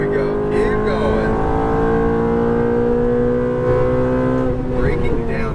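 A Ferrari F430 accelerates on a race track, its engine note climbing in a rising whine with a few shifts, close and loud, while an instructor talks over it.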